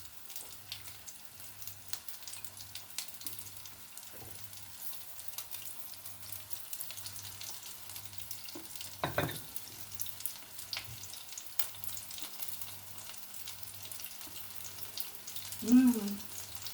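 Food frying in oil in a kitchen pan gives a soft, steady sizzle that runs the whole time, with a few louder clatters and handling bumps partway through.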